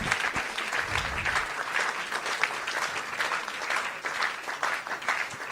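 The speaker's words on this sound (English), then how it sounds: "Can we all give a good round of applause for all of them?" Audience applause after a dance performance by a group of women, steady dense clapping at moderate level, heard alone without talk.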